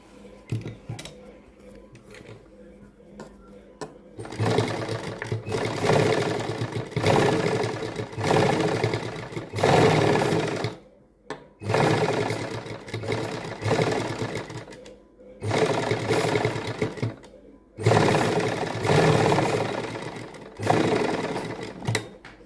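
A sewing machine stitches a topstitched seam on a woman's suit, running in several loud bursts of steady rapid needle clatter separated by short pauses, with no talking.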